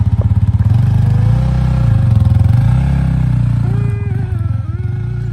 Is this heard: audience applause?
no